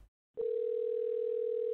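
A phone call ringing tone in the video game OneShot starts abruptly after a short gap and holds as a single unbroken, even electronic tone until the end.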